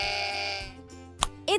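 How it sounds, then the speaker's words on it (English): A sheep bleats close up in a long wavering cry, followed by a pause, a short sharp noise and the start of another bleat at the end. "It's a sheep."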